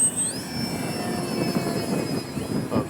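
An FMS Ranger 1220mm RC airplane flies overhead, its steady electric motor whine holding a high tone with a falling pitch shift early on, carried over constant outdoor wind noise.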